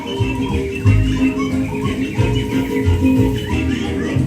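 Animatronic birds in the Enchanted Tiki Room at Disneyland chirping and trilling over a recorded musical backdrop, with bright repeated tweets and warbles mixed into a steady, moderately loud show soundtrack.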